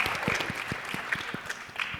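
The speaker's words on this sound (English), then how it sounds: "give a full round of applause" A small group claps at a youth leadership summit, brief and fairly close, with distinct individual claps audible in an uneven rhythm.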